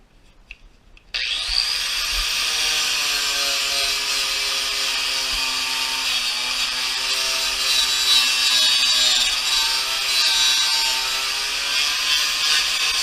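After a short quiet start, a power sander whines with a steady, high-pitched drone as it grinds surface rust off a car's metal body panel, running continuously and close by for over ten seconds.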